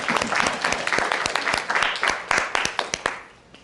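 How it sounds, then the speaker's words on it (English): Workshop attendees give a brisk round of applause, close and fairly loud, with distinct individual claps standing out in the crowd before it tapers off near the end. "A round of applause for Kira Machado,"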